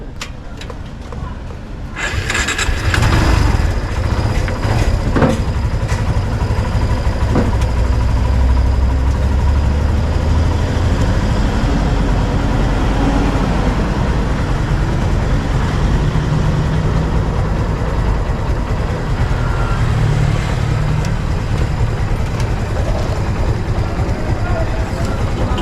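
A motorcycle engine runs steadily and loud throughout, a deep continuous rumble close by, under occasional talk.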